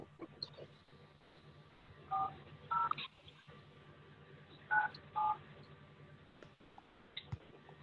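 A phone dialed on speakerphone for a cold call gives four short, quiet keypad tones in two pairs over a steady faint hiss, with small clicks around them.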